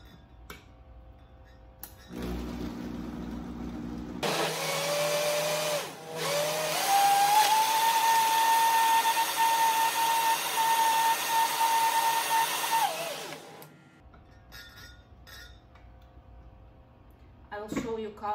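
A blender whirs up a healthy green smoothie with ice, a steady loud motor whine that rises in pitch and holds for several seconds before cutting off, preceded and followed by quieter clatter and a brief voice.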